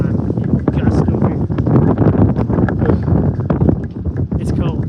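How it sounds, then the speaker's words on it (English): Strong gusty wind of about 25 miles per hour on a cold 17-degree day, roaring steadily and buffeting the microphone throughout, with a voice talking over it. "it's like 25-mile-per-hour wind"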